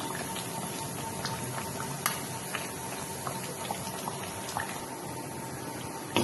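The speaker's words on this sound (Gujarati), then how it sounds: "તમે જોઈ શકો છો મુઠિયા આપણા સરસ તળાઈ રહ્યા છે" Muthiya dumplings fry in oil with a steady bubbling hiss and faint, scattered crackles, continuous and even for several seconds at close range.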